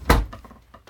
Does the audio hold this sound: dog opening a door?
yes